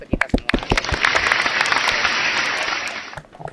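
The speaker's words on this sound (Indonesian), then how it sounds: "tepuk tangan untuk kita semua" Audience clapping after a group sings the Indonesian national anthem at an Independence Day event, a dense burst of applause lasting about two seconds after a few scattered claps, then fading.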